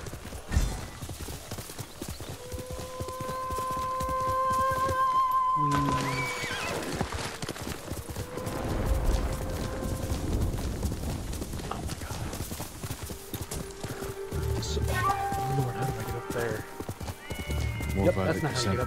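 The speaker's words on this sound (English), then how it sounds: "Come here, horse." Horse hooves clip-clop at a gallop and a horse neighs in the Ghost of Tsushima video game, with game ambience throughout and a voice speaking intermittently.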